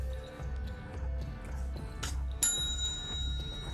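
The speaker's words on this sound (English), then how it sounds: "She's like a puppy when I ding that bell." A handheld bell dinged once, a bright ringing strike that lingers over a low background hum.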